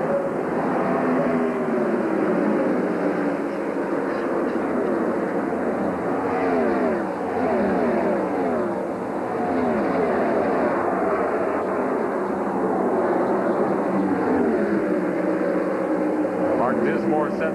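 A field of 1999 IRL IndyCars pulls away onto the straight at a Texas oval race start, producing a loud, continuous, layered engine roar with shifting pitch sweeps while a commentator talks over it.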